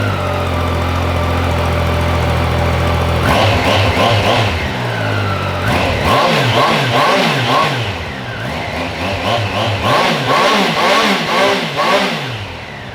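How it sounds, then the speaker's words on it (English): A Triumph Daytona 660 motorcycle on its stock exhaust idles, then revs repeatedly up to 8,000 RPM in rising and falling bursts, loud and close with no talk. "That was up to 8K RPM, not too shabby."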